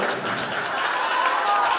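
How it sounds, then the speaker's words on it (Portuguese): An audience at a neighbourhood art event bursts into a short, loud, continuous round of clapping that fills the whole moment. "Un aplauso, por favor."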